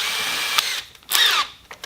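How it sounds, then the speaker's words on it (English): A power drill boring a hole to be tapped for a 6-32 thread whirs in two short bursts, a brief one then a louder, longer spin-up, with a quiet pause between. "I'm going to pull out that drill and put in"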